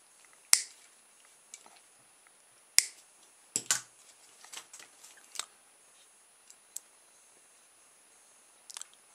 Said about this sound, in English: if I just cut that out